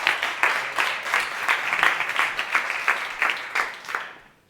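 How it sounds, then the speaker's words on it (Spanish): An audience at a business conference claps to welcome a speaker onto the stage, a loud, dense burst of applause with a pulsing rhythm that holds for about four seconds and then fades quickly to silence. "Bienvenido, un aplauso."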